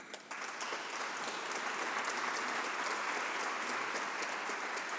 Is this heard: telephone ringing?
no